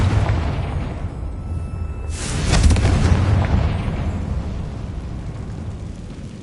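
A Confringo spell explosion from Hogwarts Legacy, a fantasy video game, goes off about two seconds in as a loud, broad boom that swells and then trails into a long rumbling decay, with no talking.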